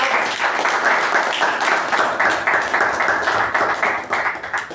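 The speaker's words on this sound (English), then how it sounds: "A big round of applause to those people" A round of applause at a Toastmasters-style meeting, a group clapping steadily and fairly loudly, tapering slightly at the end.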